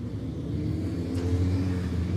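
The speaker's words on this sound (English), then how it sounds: "as the cars go out for this one" Radical SR1 race cars heading out onto the Brands Hatch GP circuit, a distant low engine rumble that swells slightly as they pass.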